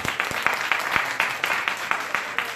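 An audience in a seminar hall claps together in a fairly steady rhythm, sharp repeated claps riding over a broad bed of scattered applause at moderate loudness.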